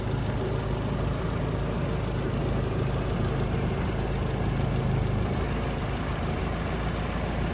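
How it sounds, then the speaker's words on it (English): A 1962 Land Rover Series IIa 88-inch soft top with a 2.25-litre petrol engine idles steadily, a close, even rumble that holds without revving and without voices. "Settles down to a nice idle."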